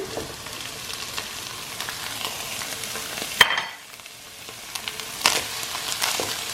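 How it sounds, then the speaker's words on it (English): Meat being stirred with garlic and onion in a frying pan, a steady soft sizzle with scraping spoon strokes and a couple of sharper clanks, close and continuous with no talking. "And just mix it all up with the garlic and the onion."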